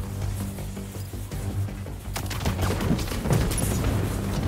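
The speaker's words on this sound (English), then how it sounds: "The fireworks. They're lit." Fireworks in Spider-Man 2 on PS5 set off near a river, a busy crackle of bursts and thuds that swells after the first couple of seconds over a steady low musical hum.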